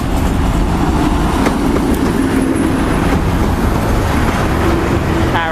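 A Pathfinder Rail Tours charter train from Bristol Parkway rolls into Wymondham station in Norfolk, a loud continuous rumble of wheels and carriages with faint clatter and squeal close to the platform.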